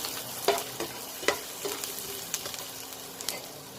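Dried red chillies and ginger frying in oil, a faint steady sizzle broken by soft spoon taps and scrapes as they are stirred in the pan, quiet and close with no talking.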